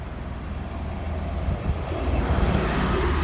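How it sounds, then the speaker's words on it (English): A lorry passes along a rural road without a pavement, a low rumbling engine and tyre noise that grows louder toward the end, heard from the roadside with no voices. "and lorries come up and down here"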